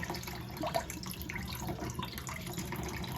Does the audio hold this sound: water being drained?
yes